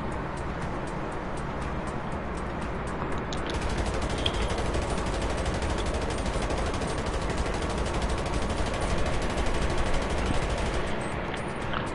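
Rapid gunfire rattles in GTA 5 Online, dense continuous bursts of shots over a constant roar of background traffic, loud and close throughout with no pauses.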